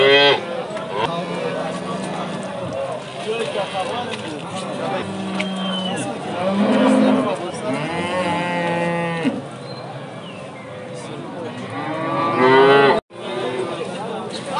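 Cattle moo repeatedly, loud and close, at a busy livestock market in Dushanbe where cows with calves are traded, with voices chattering and crowd noise throughout.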